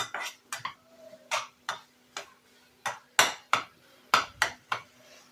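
Egg and spices being sautéed with Malabar spinach in a pan, heard as a series of sharp, close metallic scrapes and taps of a utensil against the pan, irregularly spaced over faint background hiss.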